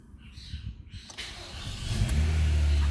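A car engine cranks and catches after its battery was charged with a laptop power supply, settling into a steady idle that grows louder and fills the low end.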